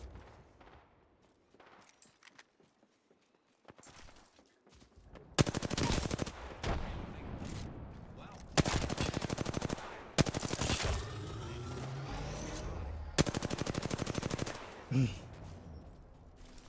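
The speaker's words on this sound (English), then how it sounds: "Dang charge rifles." Repeated charge rifle fire in the video game Apex Legends, loud near bursts of sharp crackling shots recurring every few seconds, separated by quieter gaps with faint background game sounds.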